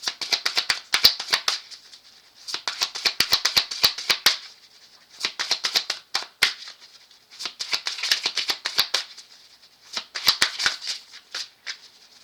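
A deck of cards is shuffled close by in five separate bursts of crisp, rapid riffling, with brief pauses between them and no talking.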